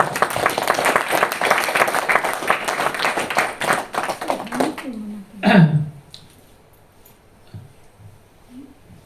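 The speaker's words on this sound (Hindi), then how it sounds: "तो महावीर स्वामी के लिए तालियां तो होनी चाहिए कि नहीं?" Audience applause fills a hall in a loud, dense burst of clapping that lasts about five seconds, then fades, leaving a short burst of voices and scattered quiet sounds.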